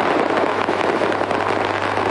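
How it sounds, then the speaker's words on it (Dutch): Deafening fireworks set off at police headquarters during a funeral, a dense, loud barrage of crackling bangs packed together without pause. "Oorverdovend vuurwerk bij het hoofdbureau van politie."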